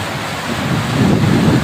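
Bogatha waterfall rushes after heavy rains in Telangana, a dense, steady roar of water heard from a distance that swells slightly louder toward the end.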